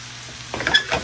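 Shaved beef for a cheesesteak sizzles in a hot pan as it is stirred, a steady frying hiss with scraping, clattering stirring strokes joining midway, close and fairly loud with no talk.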